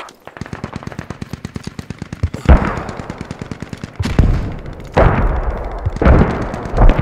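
Machine gun fire in the tactical shooter Squad: a rapid, evenly spaced burst of close shots, then several heavier, booming blasts with rumbling tails, all loud and without talk.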